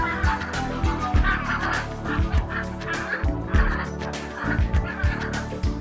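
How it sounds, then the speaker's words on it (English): Greylag geese honk repeatedly at a wetland, loud overlapping nasal calls in quick irregular bursts throughout. "grey-lag goose migrates from Tibet and China"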